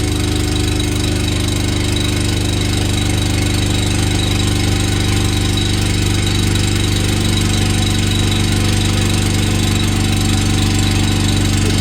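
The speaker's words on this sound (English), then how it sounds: "We'll go back to idle. We'll idle for 30 seconds and then shut down." A 48V DC generator engine running steadily, a loud continuous drone with an even hum and no break.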